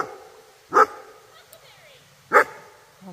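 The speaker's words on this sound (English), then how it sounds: "we've got a big old dog coming towards us" A big dog on the Appalachian Trail gives two loud, sharp barks about a second and a half apart, close by, with quiet trail ambience between them.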